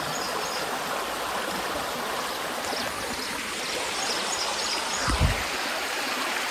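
A flowing mountain stream at Tulsishyam in Gujarat rushes in a steady, close, broadband wash of water, with one brief low thump near the end.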